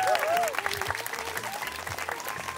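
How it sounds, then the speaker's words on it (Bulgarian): Audience at a summer salsa festival show applauds, a sustained wash of clapping under an amplified announcer's voice and background music. "Аплодисменти за Варненски свободен университет."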